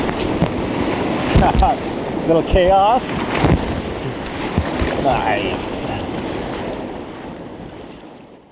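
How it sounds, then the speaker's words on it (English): Whitewater kayaking through one of the bigger rapids on the Trinity River in California, with steady roaring, rushing water and wind buffeting close to the microphone throughout, while a voice speaks briefly over the churn. "So this is one of the bigger rapids of the day."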